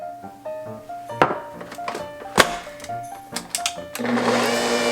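An electric mixer runs at low speed through sweet German Rosenkuchen dough with salt and a foamy mixture, starting as a steady whirring roar after a few clunks and tonal beeps, loud and close.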